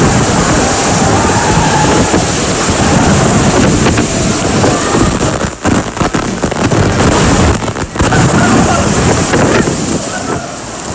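Storm surge from Super Typhoon Yolanda in the Philippines roars as a loud, continuous wash of wind and crashing waves, with heavy wind buffeting on the microphone throughout.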